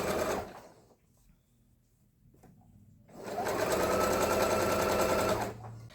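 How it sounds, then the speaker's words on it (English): A sewing machine set to its longest stitch length runs in two steady bursts, a short one at the start and a longer, louder run after a pause, with the motor's rapid even whir close by. "I'm just going to about 3/8 of an inch from the side start sewing"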